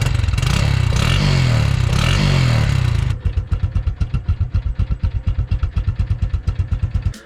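A Honda Wave 125i motorcycle with its stock exhaust revs hard for about three seconds, then drops to a rhythmic, pulsing idle with steady exhaust putts, close and loud, no talking.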